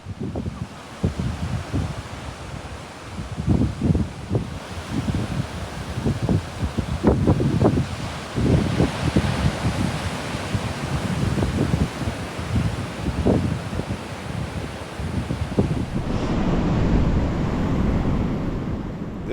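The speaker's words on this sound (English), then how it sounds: "You could just sit here and listen to these waves crash all day long" Pacific Ocean surf breaks on a sandy beach with no rocks, big waves rolling and crashing in irregular surges amid gusty wind noise on the microphone.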